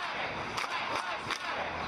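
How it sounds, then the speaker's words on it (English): A crowd of protesters marching through Manhattan for George Floyd, heard as a dense, distant roar of many voices with bursts of chanting and shouting rising over the steady din. "This crowd in Manhattan marching in the name of George Floyd and the cause of change"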